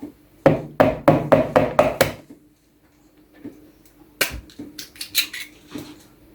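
An egg is whisked into cookie dough in a bowl: a quick, even run of about half a dozen scraping strokes, a pause, then a looser, irregular burst of tapping strokes.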